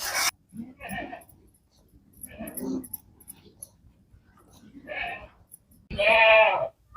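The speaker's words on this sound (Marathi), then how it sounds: "इथे एक शेळी विलेली आहे" Several short bleats from a goat that has just given birth, some nearby and loud, spaced out over a few seconds with quiet gaps between.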